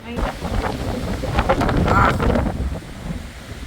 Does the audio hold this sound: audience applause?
no